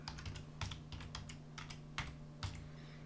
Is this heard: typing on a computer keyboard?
yes